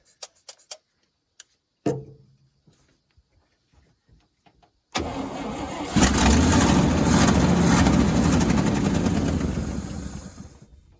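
A 1963 International Loadstar 1800 truck, not run in over twenty years, clicks and cranks briefly, then its engine catches and settles into a loud, steady, rough running roar that rises further and holds.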